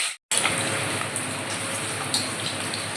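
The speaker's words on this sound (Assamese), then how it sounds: "আমি ডিমকেইটা এতিয়া ভাজিম দেই, একদম ধুনীয়াকৈ ৰঙাকৈ" Eggs frying in hot oil in a pan for an egg curry, a steady, dense sizzle that runs on without pause after a brief dropout near the start.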